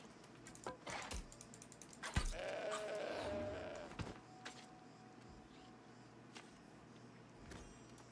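A sheep in the New World video game gives one drawn-out bleat near the middle, surrounded by quick clicks of keyboard typing and faint game ambience.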